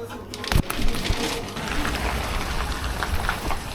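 Rain falls steadily on a Stockholm street during food delivery rounds, a close, hissing patter with a few sharper knocks and taps near the start.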